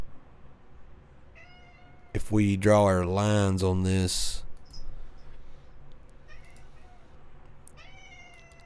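A cat meows loudly and at length, one drawn-out wavering cry, while someone talks over quieter stretches before and after.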